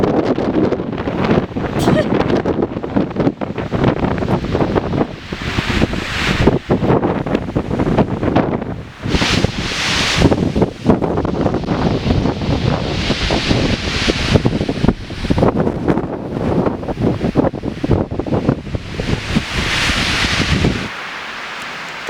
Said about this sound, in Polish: jest taki wiatr, że zatrzymało kolejkę na Kasprowy